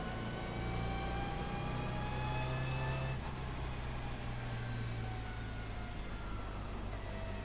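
A racing car in iRacing on slick tyres on a wet track, with a loud, steady engine drone and rising gear whine heard close from the cockpit throughout, with no talk.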